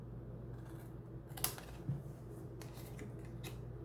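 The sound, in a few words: scissors cutting paper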